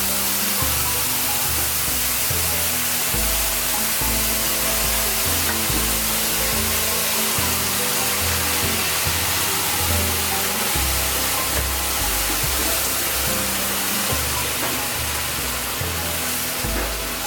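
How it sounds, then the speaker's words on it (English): Sauce poured onto sizzling Mongolian beef in a pan, giving a loud, continuous, close-up hiss and sputter that holds steady throughout with no voices. "So all we're gonna do to make this dish complete is take the sauce and add it to the meat"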